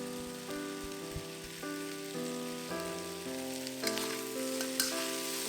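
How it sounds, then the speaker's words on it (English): Garlic, green and red peppers and onions frying in oil for Chinese pepper steak, with a soft crackling sizzle under melodic background music throughout. "Fry the garlic, green and red peppers,"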